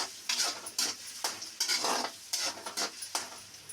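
Mutton keema stirred in a pan after mint and coriander go in: close, rhythmic scraping of a spoon against the pan over soft sizzling, about eight strokes in quick succession.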